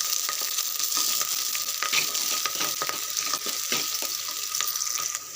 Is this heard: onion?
yes